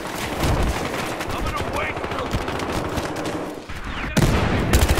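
Battlefield Hardline gunfire rattles in rapid, dense bursts of close machine-gun and rifle shots, loud and nearly constant, with a sharper blast near the end.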